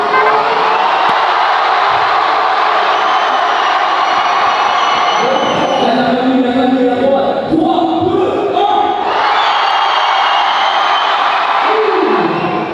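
A concert crowd of about 4000 roars and shouts steadily, a dense, loud wall of cheering with chanting swells, filling the whole stretch without a break.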